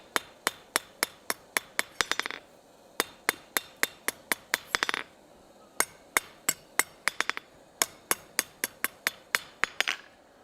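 A blacksmith hammers a forged steel scroll on an anvil, bright ringing strikes in quick rhythmic runs of about eight to ten blows, each run ending in a rapid flurry before a short pause, close and loud.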